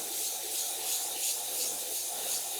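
Hand sanding with 220 grit sandpaper to flatten a surface on a 2006 Yamaha YZ250 build: a steady, soft abrasive rubbing hiss in gentle repeated strokes, close and alone.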